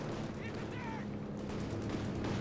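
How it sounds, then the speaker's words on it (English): Dense, sustained gunfire in Company of Heroes 2 on the 4v4 Port of Hamburg map, as paratroopers gun down Panzer Fusiliers. It forms a steady, busy battle texture with brief whistling tones layered over it. "Paratroopers moving on in, managing to gun down those Panzer Fusiliers."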